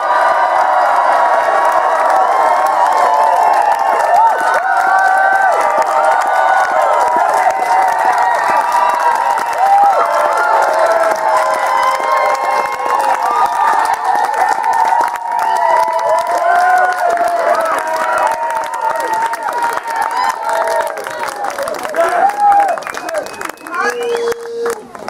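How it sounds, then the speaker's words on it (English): A large festival crowd cheers loudly, a sustained roar of shouts, whoops and some clapping, dense and close, with voices mixed through it. "say thank you to them with a very loud cheer"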